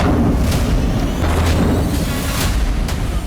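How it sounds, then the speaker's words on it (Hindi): Explosions at an oil depot in Hudaydah, Yemen, following a bomb blast: continuous loud low rumbling with repeated heavy booms, dense and close, without any talk. "तेल डिपो में एक बम विस्फोट के बाद लगातार कई धमाके सुनाई दिए"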